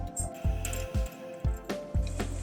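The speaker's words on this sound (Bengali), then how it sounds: "চিনিটা দিয়ে নাড়াচাড়া করে নিলাম" Shrimp filling with sugar is stirred in a pan, producing repeated close, soft squishing scrapes about every half second, with light sizzling underneath.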